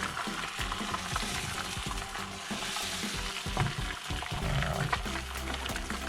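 Eggs frying in an oiled pan as they are pushed into an omelette shape for a breakfast wrap, giving a steady, dense sizzle with soft scraping and stirring throughout and no voices.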